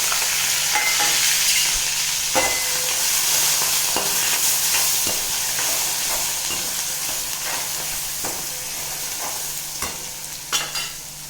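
A tempering of curry leaves, ginger, tomatoes and green chillies sizzles steadily in hot oil, a bright continuous crackle with occasional clinks and scrapes of stirring nearby.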